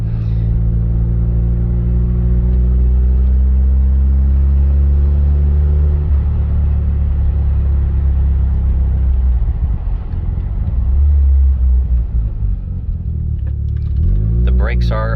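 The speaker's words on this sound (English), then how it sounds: "Turbo spools up nicely." Low engine drone and rising pitch from a 1989 Mazda RX7 Turbo II under way as its turbo spools up, heard loud from inside the car and shifting tone as it accelerates, with a voice briefly audible.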